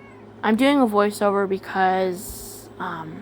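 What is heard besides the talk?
cat meowing in the room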